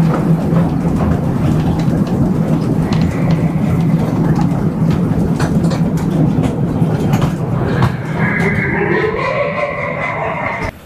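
A slow amusement park ride-on train at Dream Holiday Park in Narsingdi rolls into a cave with a steady loud rumble and rattling clatter, joined near the end by a higher whine.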